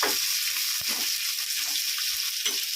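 Cardamom pods frying in hot oil for prawn biryani give a steady, close hiss of sizzling, broken by a few sharp pops and crackles.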